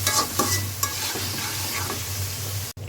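Noodles with chili and salt are stirred in a hot pan, steady sizzling under repeated close scraping of a utensil, with a brief dropout near the end.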